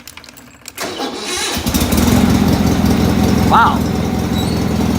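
An old engine at a plow day cranks and catches, then settles into a loud, close, steady running rumble while a person briefly exclaims.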